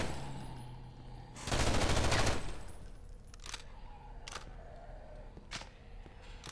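Gunfire from the video game Underhell: a dense, loud burst of rapid shots lasting about a second, then several separate sharp single shots spaced out over steady background ambience.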